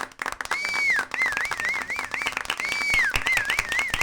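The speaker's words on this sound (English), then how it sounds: "can we get a round of applause?" A live audience breaks into a dense round of clapping that stays steady throughout, with rising and falling whistled tones sliding through the applause.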